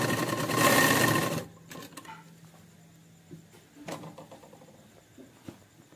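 Short close burst of a sewing machine stitching a burqa seam, loud for about a second and a half, followed by quiet fabric handling and soft clicks.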